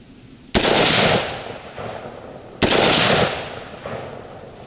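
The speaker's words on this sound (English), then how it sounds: "I'm shooting some Monarch, some of the Academy brand stuff" Two loud, close gunshots from a Smith & Wesson M&P 15 Sport II AR-style rifle firing Monarch and Academy brand ammunition, spaced about two seconds apart, each with a long ringing echo that fades outdoors.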